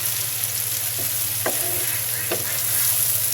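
Coconut prawns frying in plenty of oil in a pan, a steady close sizzle with a few scraping stirs, no voices.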